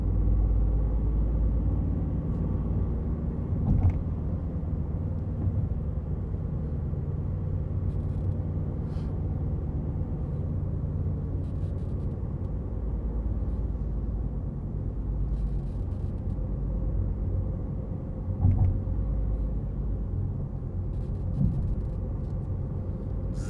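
A car cruising at a steady 70 km/h on a driving test, a continuous low road and engine rumble heard from inside the cabin, even and unbroken, with a couple of faint bumps.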